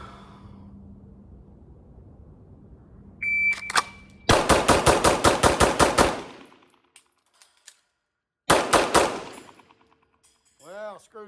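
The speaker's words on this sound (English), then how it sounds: "Threw two shots high." Rapid strings of pistol shots at a target from a Springfield Echelon or Glock 17, two loud close bursts of evenly spaced reports separated by a quiet gap, with a short electronic timer beep before the first string.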